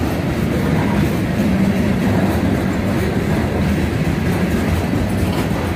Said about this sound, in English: Here comes the second train.